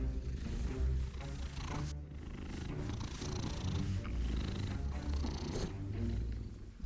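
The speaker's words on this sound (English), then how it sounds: "She just immediately starts purring." A cat purrs steadily and close up, a continuous low rumbling drone that holds for several seconds with slight rhythmic swells.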